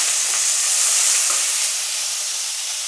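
Onions drop into hot oil with fried chana dal and urad dal for wheat rava upma, bursting into a loud, close, steady sizzle that eases slightly toward the end, with no talk.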